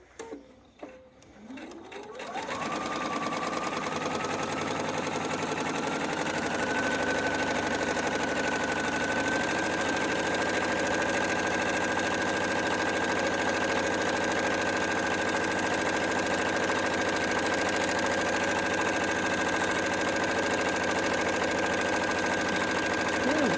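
A sewing machine stitches a seam on a small fabric flag, with a few handling clicks before the motor starts and then runs as a steady, close, even whir for the rest of the clip.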